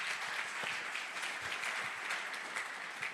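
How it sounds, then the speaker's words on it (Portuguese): Steady, loud applause from a church congregation fills the space, dense clapping continuing without pause and no talk over it. "Você pode dar um aplauso de louvor a Deus aí?"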